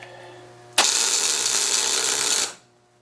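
Welder tack welding a part for a turbo build on a Land Cruiser 3.4 liter 3B engine, a single loud, steady crackling hiss lasting under two seconds, starting abruptly and cutting off cleanly.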